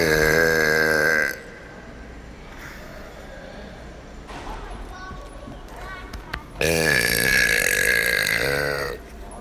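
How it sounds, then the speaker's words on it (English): Two long, loud, croaking burps echo in a hotel lobby, one at the start and one near the end, with quieter room ambience and faint background noise between them. "Today I'm going to be doing some hotel burps in the lobby."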